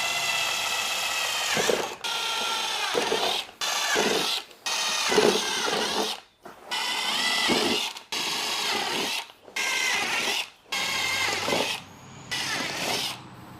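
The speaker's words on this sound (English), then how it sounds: "We're gonna drill our holes." A power drill whirs in repeated bursts of several seconds each, drilling holes to mount side skirt extensions on a 2022 WRX, separated by short pauses, close by and fairly loud, with no talking.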